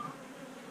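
Honey bees drone around an open beehive during an inspection, a brief, close, continuous buzzing hum with no voices.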